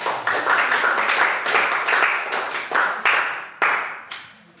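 A classroom of students claps in uneven bursts, several sharp swells of applause that stop and restart before fading out near the end.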